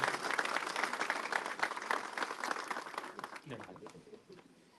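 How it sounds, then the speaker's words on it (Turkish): Loud, dense applause from a crowd, fading gradually toward the end as the clapping thins out. "alkışlarınızla mikrofona davet ediyorum"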